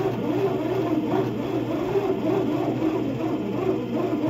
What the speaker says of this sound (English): the noise while mixing, at least that first like 30 minute stage of it mix